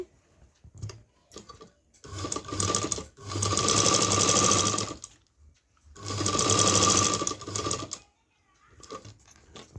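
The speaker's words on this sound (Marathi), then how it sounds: "ह्या साईडने शिलाई मारते तर अशी स्ट्रेट शिलाई करून घेते" A sewing machine stitches a straight seam on a puff sleeve in two long, loud rattling runs of several seconds each, separated by pauses with brief clicks of handling the fabric.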